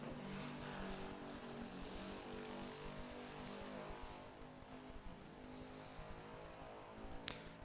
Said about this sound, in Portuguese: Nosso amigo gosta de moto barulhenta